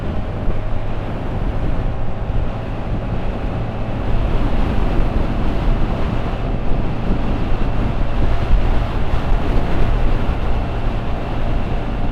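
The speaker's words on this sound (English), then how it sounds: "It's relatively windy and pretty chilly." Loud, steady wind buffeting the microphone with a low rumble throughout, while riding a Honda Navi motorbike outdoors near sunset.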